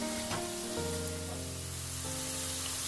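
Onion fries in a pan for an ivy gourd pepper stir-fry, a steady close-up hiss of sizzling oil with a sustained tonal hum running underneath.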